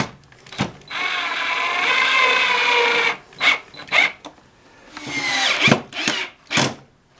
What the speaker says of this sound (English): Take this drill and go like so.